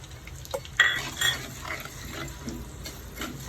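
Rice being roasted in a pan with coconut oil and popped mustard seeds, with brief scraping and clinking of a spoon stirring the grains, close and moderately quiet.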